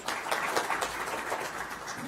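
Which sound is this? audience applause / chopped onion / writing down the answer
audience applause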